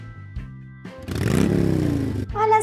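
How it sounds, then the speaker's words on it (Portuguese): A toy motorcycle for a Baby Alive doll plays a loud electronic engine-revving effect lasting about a second, framed by steady toy tones before it and a child-like voice after. "A sua moto chegou para você brincar com ela."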